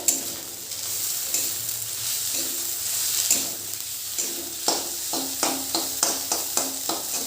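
Vegetable stalks fry in a pan with a continuous sizzle, then a run of evenly spaced scraping stir strokes toward the end, close and fairly loud.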